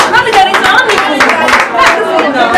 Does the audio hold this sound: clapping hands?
yes